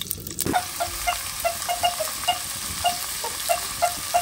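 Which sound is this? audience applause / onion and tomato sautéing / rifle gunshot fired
onion and tomato sautéing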